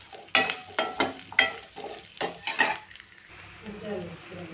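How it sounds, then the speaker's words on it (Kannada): Onion and garlic frying in a pan for bottle gourd sambar, low sizzling broken by several sharp clinks and scrapes of a utensil against the pan, then a softer simmer. "ಈರುಳ್ಳಿ ಬೆಳ್ಳುಳ್ಳಿ ಅದೆಲ್ಲ ಸ್ವಲ್ಪ ಚೆನ್ನಾಗಿ ಫ್ರೈ ಆಗಿದೆ"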